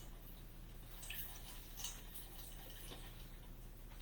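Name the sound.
water dripping while squeezing a towel over cauliflower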